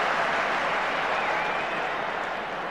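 Stadium crowd at a 1991 Rugby World Cup quarter-final between Scotland and Western Samoa, applauding and cheering a Scotland penalty in front of the posts; a steady, dense roar of clapping and voices, loud and continuous, with no talk in the foreground.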